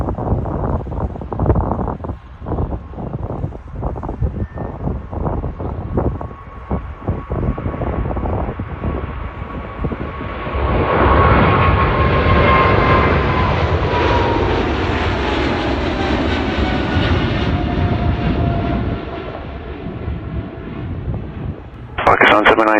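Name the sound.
PIA Boeing 777 jet taking off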